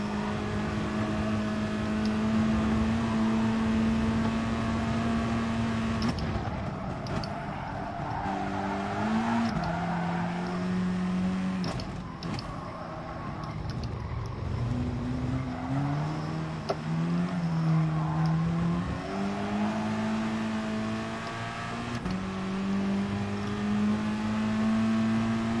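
Racing car engines in Gran Turismo Sport, a loud sustained whine rising and falling through gear changes as cars run close in a slipstream, with tire scrubbing beneath.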